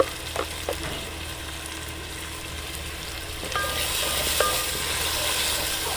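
Chickpeas roast in a pan with a soft, continuous sizzle, marked by a few scraping clicks of stirring and a slight rise in frying noise partway through.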